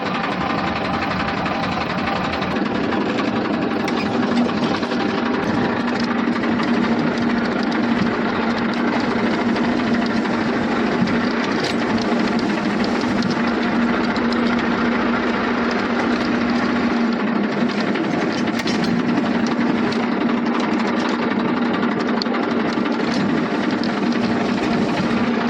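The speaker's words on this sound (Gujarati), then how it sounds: "હાલો ટ્રેક્ટર પડ્યું ઓલે ખૂણા લઈને ધીરે ધીરે ચાલુ કરું" A tractor engine runs steadily throughout, a continuous loud droning rumble with a constant mechanical hum and knocking vibration, close by and without talk.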